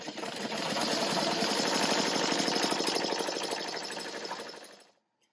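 A BAi embroidery machine stitches a hat with a titanium sharp needle, giving a loud, fast, even mechanical chatter that runs steadily for several seconds and then stops abruptly into silence, with no voices.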